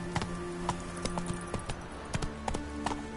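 Roach, a horse in The Witcher 3: Wild Hunt, gallops with steady clip-clop hoofbeats in an even rhythm. A low game hum runs beneath the hooves, and no one speaks.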